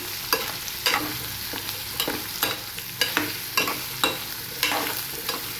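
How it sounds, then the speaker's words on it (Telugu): Curry ingredients with turmeric are stirred in a pan: regular spoon scrapes and knocks roughly every second over a soft, continuous sizzle. "ఇప్పుడే వేసిన అన్నిటిని ఒకసారి ఇట్లా మంచిగా కలపాలండి."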